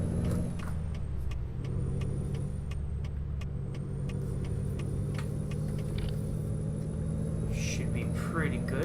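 A Freightliner Colorado truck's 515-horsepower Detroit diesel with an Eaton Fuller 18-speed gearbox, driven through snow in American Truck Simulator: a steady low engine drone with a regular ticking running through it, and a voice talking over it.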